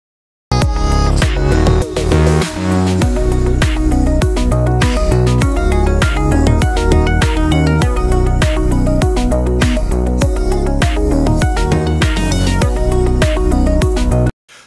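Drum kit with cymbals and hi-hats whose transients are sharpened by an Oeksound Spiff plugin, playing a steady, loud groove of crisp, punchy ticks and hits over a full mix throughout.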